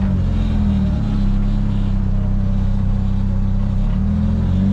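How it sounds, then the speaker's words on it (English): A 1933 Ford rat rod with a stick shift drives along, its engine giving a steady, loud low rumble throughout with slight shifts in tone as it runs. "So we're going to take it on a quick drive."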